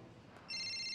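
Halfway through a quiet moment, a telephone begins to ring with a bright electronic trill. It is fairly faint and heard alone.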